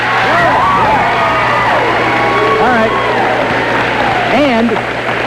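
About 85 people gathered to cheer on a teacher, whooping, yelling and clapping loudly and close by, with excited shouts rising and falling over continuous crowd noise while someone speaks briefly.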